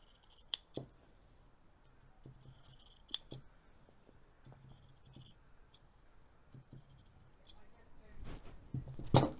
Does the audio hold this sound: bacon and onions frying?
no